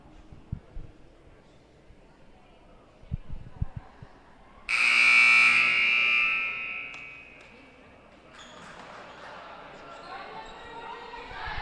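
A loud, sustained electronic buzzer blares for about four seconds at a women's basketball home game against Iowa Central, then fades into crowd murmur and arena noise, with scattered sneaker and ball sounds before it.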